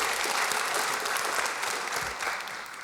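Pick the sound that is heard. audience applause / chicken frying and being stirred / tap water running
audience applause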